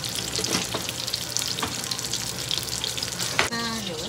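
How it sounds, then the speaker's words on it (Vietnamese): A burger patty fries in a pan for a homemade Japanese-style meal, giving a steady, close sizzle with scattered crackles and a brief scrape of a utensil near the end, with no talking. "rồi cứ chiên từ từ."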